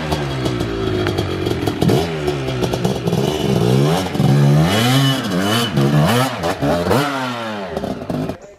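Two-stroke dirt bike engine revving hard on a hill trail, loud and close, its pitch climbing and dropping in repeated throttle surges with rattly clatter throughout.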